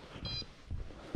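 A carp fishing bite alarm gives a single short electronic beep near the start, followed by faint low handling noises and quiet rustle.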